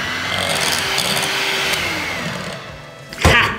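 An electric mixer whirs steadily through quark dough with semolina, flour and starch, a loud continuous motor drone that drops off before a sharp clatter at the end.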